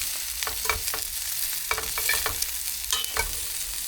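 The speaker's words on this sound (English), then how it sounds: "Fresh prawns. raw in the pan, a little bit of salt on them." Fresh raw Queensland banana prawns fry in a salted pan, sizzling steadily up close, with sharp spits and crackles popping through the hiss. No voices are heard.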